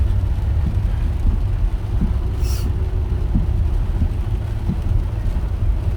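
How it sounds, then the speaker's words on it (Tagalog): Constant low rumble of a car interior on the road to Santa Maria, Bulacan, with a dense wash of heavy rain drumming on the vehicle, steady throughout. "Malakas ang ulan ngayon."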